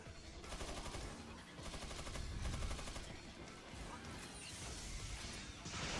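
Dense rapid gunfire and crashing impacts in Devil May Cry 4 Special Edition, a continuous barrage of bursts with metallic mechanical clatter, steady and loud throughout with no talk.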